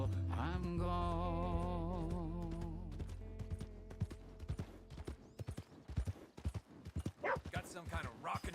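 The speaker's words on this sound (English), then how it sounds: "Olha o cavalo da Sadie." A horse's hooves clip-clop in a video game, the steady hoofbeats rising as a musical passage fades, then continuing as a clear, irregular trot.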